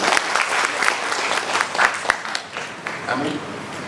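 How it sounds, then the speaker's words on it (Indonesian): A church congregation claps steadily for a few seconds during a sermon, a dense patter of many hands at moderate volume. "Tepuk tangan"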